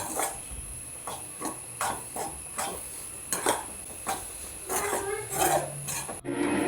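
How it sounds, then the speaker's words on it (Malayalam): Garam masala being stirred and roasted in a pan for a chickpea curry masala, with soft repeated scraping and tapping of a utensil against the pan, faint and close, in an otherwise quiet kitchen. "ഗരം മസാലയും കൂടി ഇട്ട് നന്നായി നമുക്ക് മൂപ്പിച്ചെടുക്കാം"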